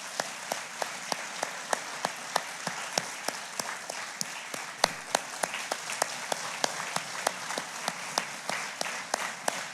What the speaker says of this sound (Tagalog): Sige po, palakpak para sa Diyos